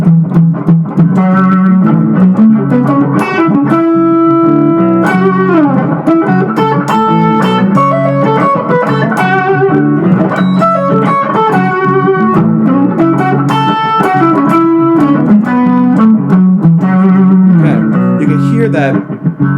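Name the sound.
electric guitar with distortion pedal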